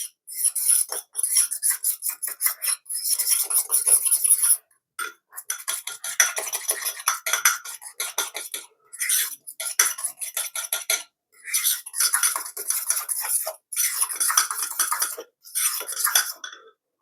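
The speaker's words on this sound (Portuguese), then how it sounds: "4 colheres de aveia em flocos, 2 ovos. E aí nós vamos mexer, ó, vai virar uma massinha." Rapid spoon-on-bowl clatter of oat flakes and eggs being stirred into a batter, quick rhythmic clinking bursts broken by short pauses, close and fairly loud with no talking.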